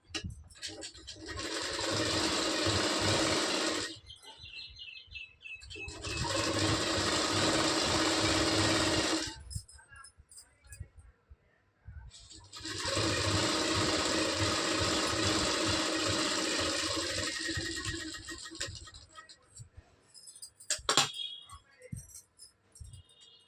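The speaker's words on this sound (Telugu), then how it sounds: "half inch mine పొడవుకి కుట్టేసుకోవాలి" Sewing machine stitching a half-inch seam for blouse thread piping, three long steady runs of rapid mechanical whirring separated by short pauses with small handling clicks, close and clear, followed by quieter rustling and tapping.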